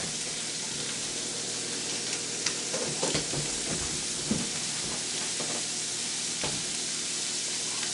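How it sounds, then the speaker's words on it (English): Celery, onions, garlic and chorizo sausage sautéing in bacon grease for Brunswick stew, a continuous close sizzle and hiss with scattered clicks and scrapes of stirring throughout. "celery, onions, garlic, and a little chorizo sausage that I'm going to saute in here in this bacon grease"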